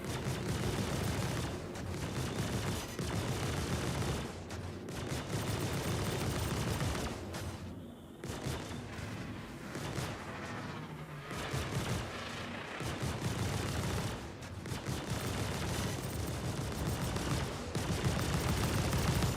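Weapons fire continuously in a video game until they overheat: a dense, loud barrage of shots and booms that runs almost unbroken, with brief dips in between.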